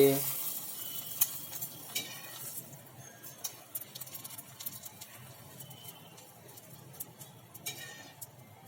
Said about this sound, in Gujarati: આજે આપણે સરસ મજાની જે કચ્છી દાબેલી બનાવી રહ્યા છીએ તેને લોઢીની અંદર હવે તળીને તૈયાર કરી લઈએ